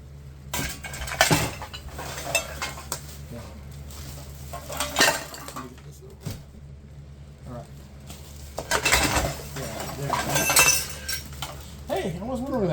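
Dishes, cups, glasses and cutlery clink and rattle in bursts as they are handled and shifted about, loud and close, with a steady low hum underneath and some background voices.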